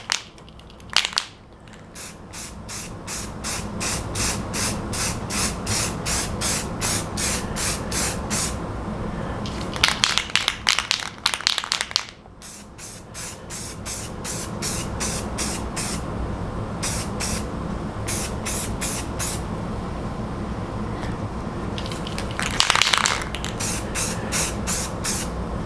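Spray paint hisses in repeated bursts onto a hardware-store lightsaber build, long steady sprays broken by short pauses and quick sharp spurts, loud and close with no talking.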